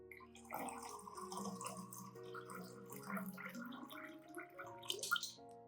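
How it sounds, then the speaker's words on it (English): Water poured into a homemade organic orchid fertilizer solution, a soft, continuous splashing and trickling with gurgling bubbles, fairly quiet and close, running for several seconds. "Finally, add 1 liter of water to dilute the solution."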